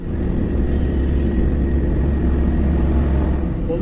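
A Land Rover Discovery with large exhaust pipes accelerates, a loud steady low engine drone with heavy rumble, heard continuously up close.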